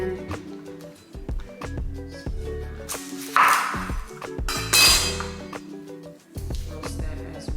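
A knife roughly chopping peeled carrots and red onion on a cutting board, giving irregular sharp knocks with short pauses, close and fairly loud, along with a few clinks of kitchenware.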